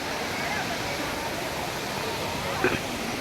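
Constant broadband rush of a waterfall, a steady roar with no breaks, close and fairly loud.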